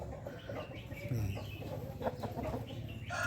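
A young fighting rooster clucks and mutters close by in a steady low series of calls, with faint background noise around it.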